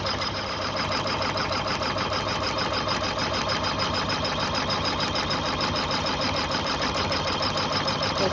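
An embroidery machine stitches a design onto a fast-dry towel, giving a steady, close, rapid mechanical whirring and needle chatter that runs unbroken the whole time.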